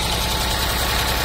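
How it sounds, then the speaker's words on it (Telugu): A double-engine motor pumps water through a large pipe beside a site near the Amaravati High Court, giving a steady, close, droning hum with a faint rapid pulse and no voices. "ట్రాక్టర్స్ ఇక్కడ డబుల్ ఇంజిన్ మోటార్ కూడా పెట్టారు, పెద్ద పైప్ ఇది"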